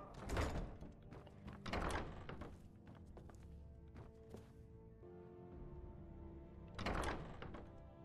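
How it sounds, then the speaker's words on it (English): A wooden door in Skyrim thuds shut, with a few soft knocks and another heavy thunk later, all fairly quiet against low room ambience. "Better close the door."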